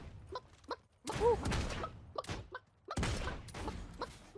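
Shotgun blasts in the video game Realm Royale: two loud booming shots about two seconds apart, each with a decaying tail, between softer game sounds.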